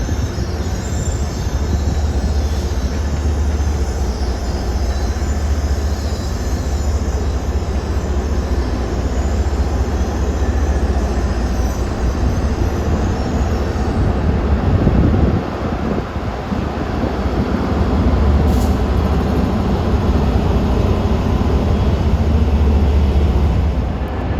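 A passenger train departs for Worcester on the old Boston and Albany line, a loud steady rumble of rolling cars with wheel squeal and wind buffeting throughout, close by and continuous.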